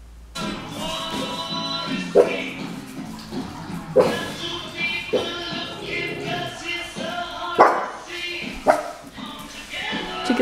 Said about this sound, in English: she's just barking at it like no other